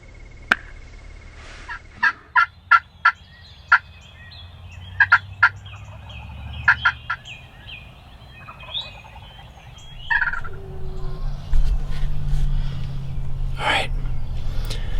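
Several wild turkey toms gobble in repeated loud bursts across a spring Kentucky hunting morning, heard from a ground blind near a tree line, with birdsong around and a rising rustle of wind or movement toward the end.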